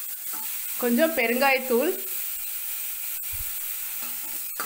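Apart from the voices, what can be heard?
ground paste sizzling as it is fried in a pan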